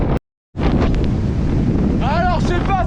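Strong wind buffets the microphone on an ultra trail run, a loud continuous roar broken by a brief dropout near the start, with faint whistling tones and a voice briefly audible toward the end.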